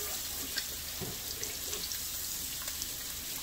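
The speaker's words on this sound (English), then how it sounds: "All right, put that down, wash off." Tap water runs steadily into a sink while a snapper fillet is rinsed, a continuous hiss with small splashes and drips close by.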